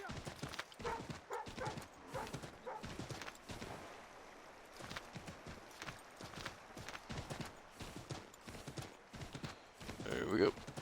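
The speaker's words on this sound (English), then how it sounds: "Riding on a horse or horseback." Horse hooves clip-clop in a rapid, uneven rhythm as a horse is ridden at speed in the video game Assassin's Creed III, with game ambience around it.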